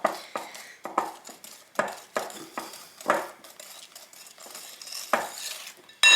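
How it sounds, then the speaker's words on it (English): A spoon works chocolate into a very thick mixture in a bowl, making a regular series of close scraping strokes and light clinks against the sides, with brief pauses between strokes. "So I'm going to mix this chocolate in here"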